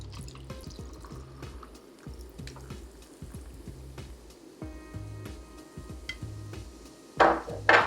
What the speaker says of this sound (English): add some ice to the glass and then top it with your homemade kombucha.